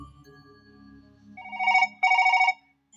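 A telephone rings in a Kannada stage play, two short electronic bursts of ringing after a low hum, fairly close and with no talk over them.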